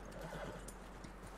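Horse in the snowy Red Dead Redemption 2 game world, a single short whinny with soft clip-clop hoofbeats, faint over a steady low background hum.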